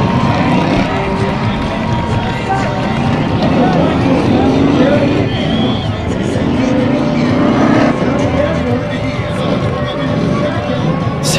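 Race cars in a figure 8 race at the Antelope Valley Fair, engines roaring steadily and rear wheels spinning, under constant crowd noise and an announcer talking.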